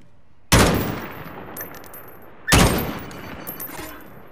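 Two loud, sharp bursts of gunfire crack out about two seconds apart in the video game Call of Duty Warzone, each one ringing and decaying behind it.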